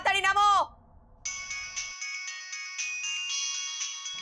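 A mobile phone ringtone plays a bright repeating electronic melody that runs steadily for several seconds, preceded by a brief burst of a voice.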